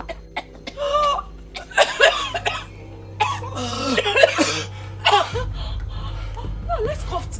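Several harsh coughs in short bursts, mixed with voices, laughter and a steady low hum in the background.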